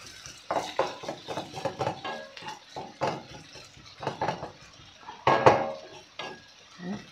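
Ginger and garlic fry in a pan for a gram flour potato kurma, heard as a faint sizzle under repeated close clanks and scrapes of a spoon against the pan.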